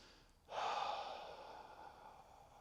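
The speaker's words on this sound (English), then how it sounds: "So a full breath looks like this." One long, deep inhalation filling the upper chest, a close breathy rush that swells quickly and then slowly tapers off, with no talking.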